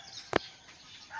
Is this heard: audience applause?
no